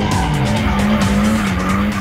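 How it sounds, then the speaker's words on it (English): A DMAC 86 Corolla drift car squeals its tires, a loud continuous close screech over the wavering engine tone, lasting the whole short stretch without speech. "I burn rubber all over the world with these drift cars"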